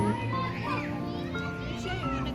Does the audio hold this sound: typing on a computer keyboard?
no